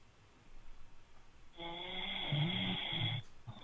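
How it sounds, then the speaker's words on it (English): A person snores once in a long, rattling, buzzing breath that rises and then stops, heard up close against a quiet background. "Rate this snore in the chat, man. 1 being fake, 5 being real."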